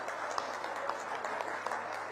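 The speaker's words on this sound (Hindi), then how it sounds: "ताली बजा दीजिए" Audience applause at a formal diplomatic gathering honoring embassy officials, a steady wash of clapping at moderate distance, fairly faint, with scattered louder individual claps and no talk over it.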